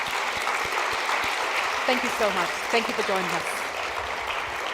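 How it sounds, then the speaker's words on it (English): Audience applause for a panel at a global health financing event: a moderate crowd clapping steadily while a speaker talks over it. "Ladies and gentlemen, a round of applause for my panel."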